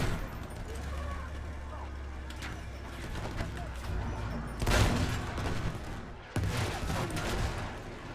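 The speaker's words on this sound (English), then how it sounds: "Oh, artillery got me." Artillery fire in the Battlefield 1 video game, with heavy booming blasts and a sharp impact near the end over steady battlefield rumble, while a voice talks.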